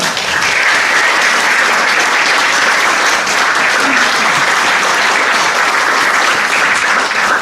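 A crowd at the Arc of Attrition 2024 ultramarathon awards ceremony applauds two men called to the stage, a loud, dense and unbroken wash of clapping that holds steady throughout.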